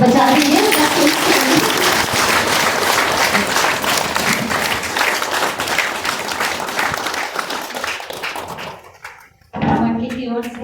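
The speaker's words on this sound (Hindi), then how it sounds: "ताली बजा रही है।" A congregation applauds at a farewell gathering for a candidate, a dense, lively clapping from many hands that fades out, drops to near silence, then gives way to a voice speaking.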